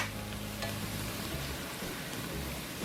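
A tri tip roast sizzles over an open fire as it is flipped, giving a steady close crackling hiss with a brief scrape and clatter partway through.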